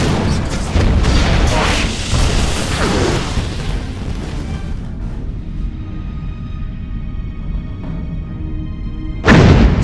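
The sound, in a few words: starship San Francisco firing weapons in video game Star Trek Bridge Commander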